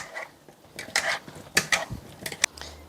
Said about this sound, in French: On va touiller un peu.